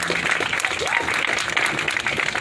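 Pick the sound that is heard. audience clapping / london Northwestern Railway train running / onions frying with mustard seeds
audience clapping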